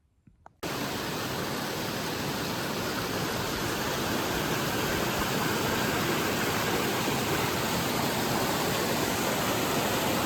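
Rushing stream water pours into a deep pool on an Appalachian Trail hike, a loud, steady broadband roar that cuts in abruptly after a brief quiet start and continues unbroken.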